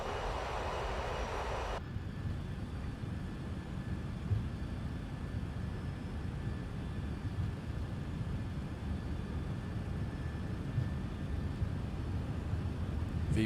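MD-11 airliner taking off in Microsoft Flight Simulator 2024, a steady loud engine roar with a brief hissy wash at the start, continuous and unbroken through the whole run without talk.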